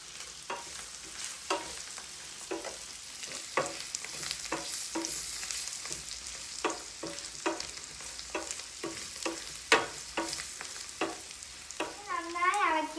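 Spoon scraping and stirring a garlic pickle mixture with salt in a pan, a steady series of close scrapes over a faint sizzle, with no talking.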